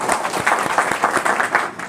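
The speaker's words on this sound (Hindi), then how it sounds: "जोरदार ताली।" Attendees at an RCM business training session give a short round of clapping, dense, irregular hand claps from a roomful of people lasting about two seconds.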